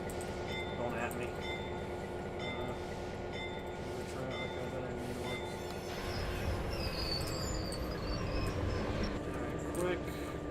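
A CSX diesel locomotive's roots blower whines in the Run 8 train simulator game, a steady droning engine hum with a constant high tone, growing a bit heavier partway through, as a voice talks over it.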